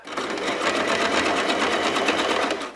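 A sewing machine stitching fabric for a basket, its needle running in a fast, steady mechanical chatter at close range throughout, loud and uninterrupted, with no voices.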